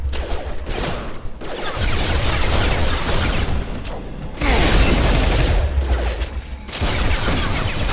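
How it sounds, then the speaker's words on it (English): Heavy sustained gunfire in Mass Effect 2, long loud automatic bursts separated by short gaps, close and continuous with booming low end. "Taking heavy fire!"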